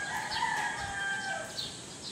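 Roosters crow on a rainy morning in the countryside, a couple of distant, fairly faint calls overlapping steady background noise, with no one speaking.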